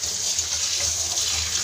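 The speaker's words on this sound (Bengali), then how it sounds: "এই জায়গাটা জল ছিটে ছিটে এসে পুরো ভিজে যাচ্ছে" Water from a tap splashing steadily and spraying onto a nearby surface, a continuous close hiss of running water with no pauses throughout.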